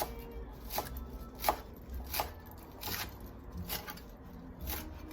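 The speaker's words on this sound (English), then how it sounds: "now we're gonna chop our parsley" A knife chops parsley steadily on a cutting board, crisp evenly spaced taps about every half second, close and fairly quiet with no talking.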